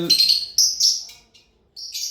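Caged birds at a bird market, including talking mynas, chirp in short bright bursts, several quick calls close by with brief pauses between them.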